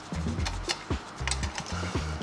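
Two 8mm wrenches tightening the bolts on a Topeak rear bicycle rack, giving a series of close metallic clicks and ratcheting taps in short irregular bursts, alone without talk.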